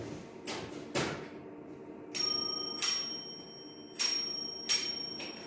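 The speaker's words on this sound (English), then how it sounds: "I've brought another trigger object, an old bell that he used. I'll just put it on the windowsill." An old bell set down on a windowsill during a night investigation in an old cinema in Swadlincote, giving several bright metallic dings and rattles after duller knocks, fairly close and quiet.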